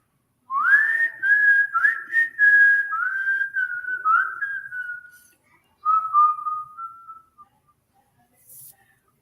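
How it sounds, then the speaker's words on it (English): A person whistles a wavering tune alone at close range. One long phrase runs for several seconds, then a short pause, then a second, fading phrase. "I usually can't whistle very good."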